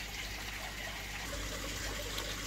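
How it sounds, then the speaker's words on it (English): Pond water carrying live Daphnia and blood shrimp is poured from one container into another, a steady close gush and trickle running continuously without pause. "I'm going to pour this water into another container and I'm going to capture all the Daphnia, blood shrimp"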